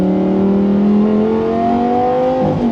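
A Lamborghini Gallardo engine revs at half throttle up to 7,000 rpm, a loud, continuous rising howl that climbs steadily, then drops off sharply near the end, with no voices over it.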